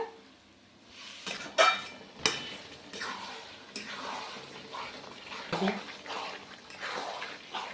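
Mutton curry is stirred and sautéed in a pot with a spoon, making scraping clanks and sharp metallic knocks over a low sizzle. A voice is faintly audible at times.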